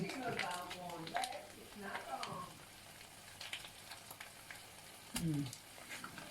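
Pork sizzling and being stirred with Thai curry paste in a hot pan, a steady frying crackle with scraping stir strokes, heard under intermittent talk.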